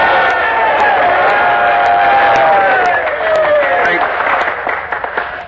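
A crowd of colonists in a 1947 radio drama breaks into sustained cheering and applause, loud and close, with voices calling out over the clapping before it thins toward the end.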